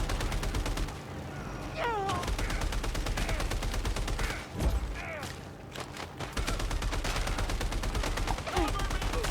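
Assault rifle fire from the video game Phantom Fury crackles in dense, rapid bursts amid steady game noise and effects, loud and continuous across the stretch with brief dips.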